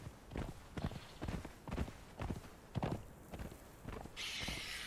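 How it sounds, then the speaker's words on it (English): Horse hoofbeats in the Conan Exiles video game, a steady rhythmic clip-clop of hooves at a walking or trotting pace, fairly close and continuous, with a brief burst of hiss near the end. "I bet we could just run those over with the horse."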